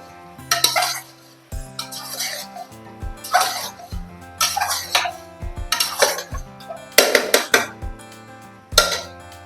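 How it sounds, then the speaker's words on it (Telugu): Mutton stirred into onion tomato masala in a pot for mutton pulusu, repeated loud scraping and clanking of a spoon against the metal pot in irregular bursts, close and prominent. "మటన్ వేసుకుని ఒకసారి కలుపుకుందాం"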